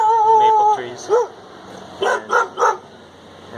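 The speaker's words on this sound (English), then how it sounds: "And the neighbor's dog." A neighbor's dog barks from across a backyard, a few sharp barks in a quick cluster after a short yelp, fairly distant against quiet outdoor background noise.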